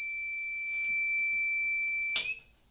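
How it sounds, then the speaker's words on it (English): A smoke or fire alarm shrieks during a scooter battery test: a loud, steady high electronic tone held continuously, which ends with a short burst of noise as it cuts off, close and piercing. "And now I'm getting a full out alarm."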